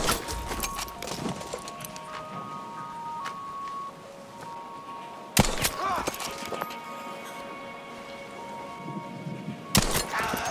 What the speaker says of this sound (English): this is how enemies react when you shoot them in Battlefield 5